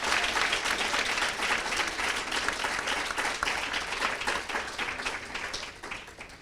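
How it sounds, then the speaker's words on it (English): A crowd at a peer mentor certificate ceremony claps steadily for the speakers and organizers, a dense round of applause that carries on throughout and tapers slightly near the end. "give a round of applause to every single speaker, every organizer, and coordinator"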